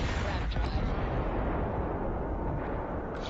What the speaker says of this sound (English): This is just my turrets doing their own thing.